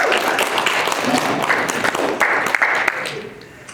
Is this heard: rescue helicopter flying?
no